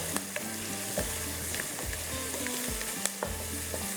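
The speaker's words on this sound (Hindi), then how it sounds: "अब इसको थोड़ा सा हम इस तरह से भूनेंगे" Salt, turmeric, ginger, garlic, curry leaves, cinnamon and bay leaf sizzle steadily in hot oil in a pan for Lucknowi qeema, with scattered sharp scrapes and clanks of stirring throughout.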